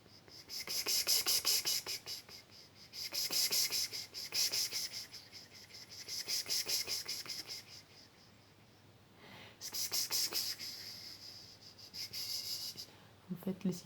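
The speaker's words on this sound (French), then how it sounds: "Des cigales, ce sont des tout petits insectes qui chantent." Cicadas singing in a southern garden, their dry buzzing rising and falling in repeated pulsing bursts of a second or two, fairly close and alone with no talk.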